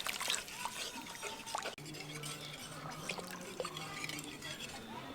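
Coconut milk poured into the spice mixture for a Bengali shrimp malai curry, a continuous wet pouring and bubbling sound with light drips and splashes, close by and steady throughout.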